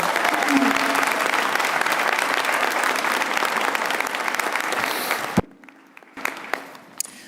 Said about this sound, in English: So another round of applause for this amazing team.